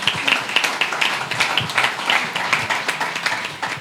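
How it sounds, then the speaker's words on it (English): Steady applause from an audience at a talk welcoming a deputy economic development secretary, a continuous moderate wash of clapping throughout with no voice standing out. "Give applause to him."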